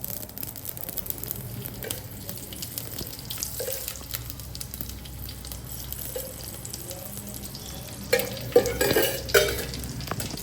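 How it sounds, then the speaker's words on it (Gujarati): Spices crackle and sizzle in hot oil as tempering for khichdi, a steady frying hiss with stirring and sharper pops toward the end, heard close in a home kitchen. "આ રીતના બરાબર વઘાર ફૂટવા દેવાનો"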